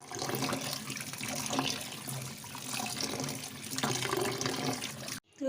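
Tap water running into a kitchen sink while vegetables such as flat beans and bitter gourd are washed, a steady splashing stream with shifting gurgles for about five seconds before the flow cuts off.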